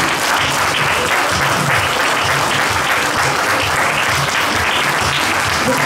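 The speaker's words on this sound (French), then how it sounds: "On va applaudir." Loud, sustained applause from a cosplay contest audience, dense clapping filling the hall without a break.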